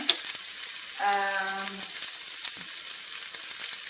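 Gochujang-glazed pork stir-fry sizzles steadily in a pan at moderate volume, with a brief tonal beep and occasional clinks of stirring over the frying.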